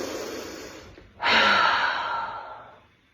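A person breathing during a restful stretching practice, with a long exhale that fades and then a sudden, loud, airy inhale close to the mic.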